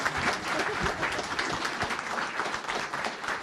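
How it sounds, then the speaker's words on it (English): Applause at an annual council meeting fills the room, a steady wash of many hands clapping at moderate distance throughout, with no talk over it. "Give them an applause because they put in great service for our community."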